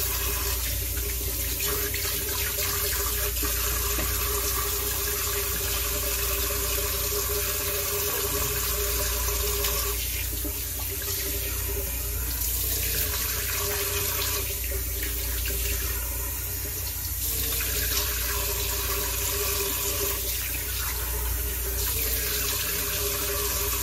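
Warm water runs steadily from a tap into a sink, a close, continuous splashing hiss that stays level throughout with no pauses and no talk.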